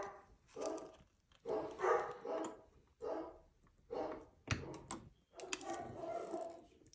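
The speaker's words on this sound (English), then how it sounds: "I don't know why my dogs are freaking out." Several dogs bark at a delivery truck outside, rising in repeated excited bursts of barking and yipping with short pauses between outbursts.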